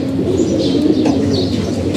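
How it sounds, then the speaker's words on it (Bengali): Several white pigeons of an old bloodline coo steadily and close by, soft layered burbling calls overlapping throughout with a few faint chirps mixed in. "একই স্টাইলের কবুতর সব সাদা পাখি কবুতর পাখি"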